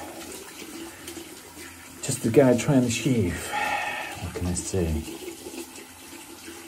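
Warm tap water runs into a bathroom sink while a man prepares to shave, a steady wash of flow beneath his talking.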